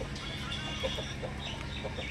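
A Jaralakha-type Aseel rooster clucks softly now and then, a few short scattered calls close by amid steady low background noise and faint bird chatter.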